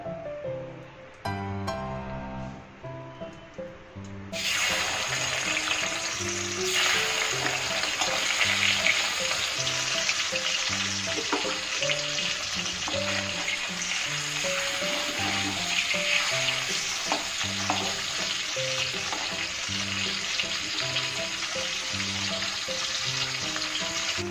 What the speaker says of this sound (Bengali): বাকি মাছগুলো এবার ভেজে নেব